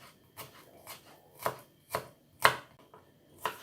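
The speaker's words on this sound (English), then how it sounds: "we'll just cut this into little pieces and then we'll go back through it again" A knife chops homegrown garlic into small pieces on a cutting board, giving about eight sharp, close, evenly spaced strokes with quiet gaps between them.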